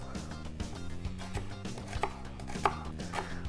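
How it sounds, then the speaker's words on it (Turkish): Steady, rapid knife chopping of onions on a board, a quick rhythmic tapping that continues throughout at close range, with no one speaking. "Hemen soğanlarımı yemeklik doğruyorum."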